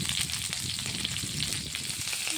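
Mustard seeds and curry leaves sizzle and pop in hot oil, a dense, steady crackle heard close up with no voices over it.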